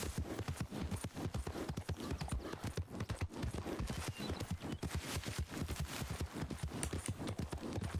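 Steady clip-clop of hooves from a gypsy vanner mare named Tinker ridden along a trail in Red Dead Redemption 2 Online, an even rhythmic gait that runs loud and close throughout.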